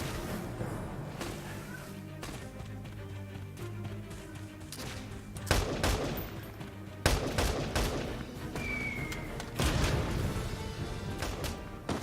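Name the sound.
gunfire in video game Valkyria Chronicles 4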